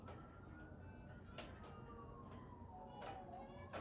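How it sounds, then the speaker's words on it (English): Distant sirens wail faintly, their pitch slowly falling and rising over a steady background rumble, with a few short clatters in between. "You hear the sirens here."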